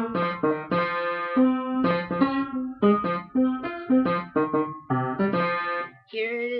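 A song melody played on piano, with clear separate notes and short phrases at a moderate pace, close and solo, with no voices.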